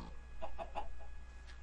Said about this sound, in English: Seems to be a lot of chickens